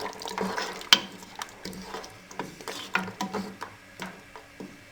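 Mutton deghi korma stirred in a pot, a series of close spoon scrapes and sharp clacks against the metal in an irregular rhythm over a faint simmer.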